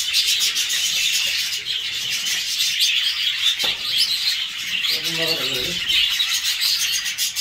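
Dense, continuous chirping and chattering from a flock of jumbo crested budgerigars in a breeding aviary, steady and fairly loud throughout, with a brief lower squawk near the end.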